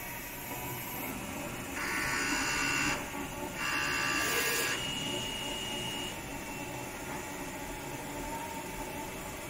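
A Nebula-35F industrial DTF printer prints a head alignment pattern, giving a steady mechanical hum and whir with a few brief higher-pitched passes of the print carriage, no speech.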